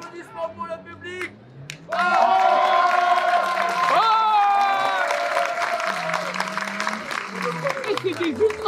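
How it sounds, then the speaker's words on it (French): Audience applause at a live event, with cheering and clapping swelling up after some talking and continuing loudly for several seconds, mixed with shouts and a bright whistle-like tone over the crowd noise. "un tonnerre d'applaudissements pour le public."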